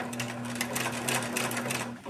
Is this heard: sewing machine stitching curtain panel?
yes